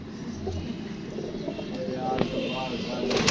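Pigeons coo softly at a pigeon-keeping spot, low repeated calls amid ambient noise and faint chirps, fairly close by.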